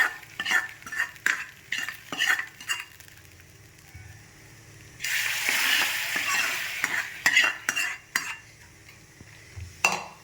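An onion tempering poured into jackfruit sambar gives a sudden loud sizzle lasting about a second, between repeated close clinks and scrapes of a ladle stirring the pot; no one speaks.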